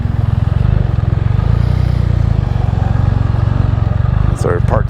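A KTM 390 motorcycle rides by with a loud, steady engine drone close to the microphone, as if heard from another running bike, with a brief burst of voice near the end.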